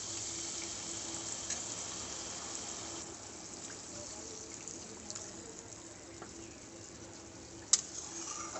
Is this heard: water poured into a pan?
yes